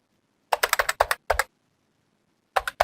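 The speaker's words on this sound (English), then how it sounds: "now the thing that you're gonna type in the box right here" Quick bursts of keystrokes on a computer keyboard, close and crisp, in two short runs separated by a pause of silence, with a few more taps at the end.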